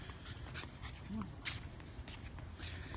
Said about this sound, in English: Savage beasts out for a walk. And then there's the dogs.